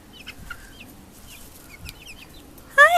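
Chickens cluck in short, faint, scattered calls around a farmyard, followed by a louder, closer burst of squawking near the end, with no talking.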